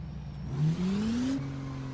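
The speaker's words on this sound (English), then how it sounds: "So I got a little bit of turbo whine with it." A car engine revs in a video game, rising in pitch with a turbo whine climbing over the engine note, then settling into a steady drone.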